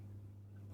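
A single short cough bursts out abruptly at the very end after near silence, close and fairly loud.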